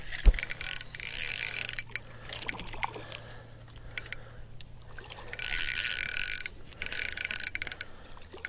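A fishing reel's drag clicks in fast ratcheting bursts while a rainbow trout is played at Strawberry Reservoir, the bursts starting and stopping repeatedly over a low steady hum, some of them long and loud.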